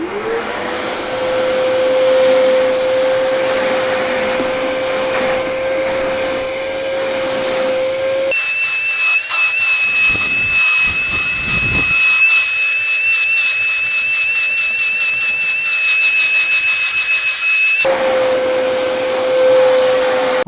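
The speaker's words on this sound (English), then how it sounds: "you can see the amount of dust that got collected with just a few swipes on the sofa" An Agaro Ace 1600 watt wet and dry vacuum cleaner runs continuously while cleaning a sofa, giving a steady loud motor whine with a high-pitched whistle that shifts in tone mid-clip as the nozzle is pressed into the cushions, then returns.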